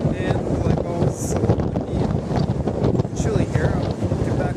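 Wind buffets the microphone on a chilly airport tarmac in Reykjavik, Iceland. It makes a continuous, loud, rumbling roar with gusty swells throughout.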